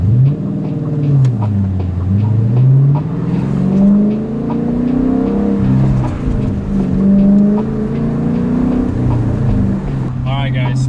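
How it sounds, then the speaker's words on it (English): A 2016 Dodge Challenger R/T with a manual transmission being driven, its engine droning and rising and falling in pitch through gear changes, loud and close, with a brief higher sound at the end. "So I'm gonna go ahead and drive it right now."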